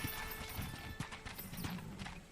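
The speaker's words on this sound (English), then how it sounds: "That ranch hand said there's a pack of wild horses." Wild horses in the Red Dead Redemption video game: faint, distant hoofbeats clop in an irregular rhythm, with soft neighing mixed into quiet background ambience.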